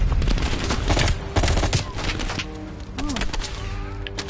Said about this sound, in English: Where the fuck are you shooting from?